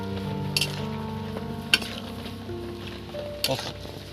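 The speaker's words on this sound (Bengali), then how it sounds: "এবার দেখুন নাড়তে চাড়তে থাকবো" Maggi noodles sizzle and fry in a pan while being stirred, with a steady hiss under scraping strokes and a few sharper clinks of utensil against the pan.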